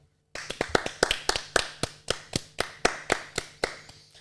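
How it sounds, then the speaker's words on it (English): A small group claps for a man they are welcoming over, with about fifteen sharp, evenly spaced hand claps ringing out close by and loud after a moment of silence. "Give him a clap."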